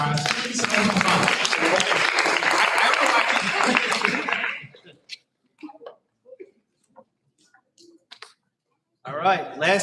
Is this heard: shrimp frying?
no